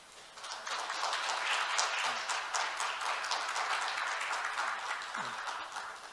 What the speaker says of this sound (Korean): 다시 한번 박수로 맞아주시면 좋겠습니다